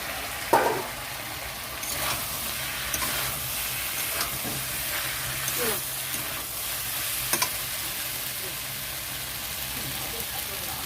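Fried potatoes and taro stirred into spice paste frying in oil for a tilapia curry, a constant loud hiss and sizzle with several scraping stirs and a sharp clatter near the start.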